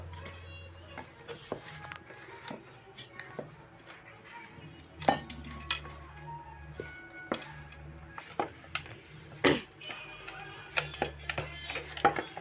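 Puri dough kneaded by hand for a Holi full-moon festival meal, with irregular knocks, pats and clatters of the dough against a plate or vessel, close and fairly quiet, some moments louder, with light kitchen clinks in between.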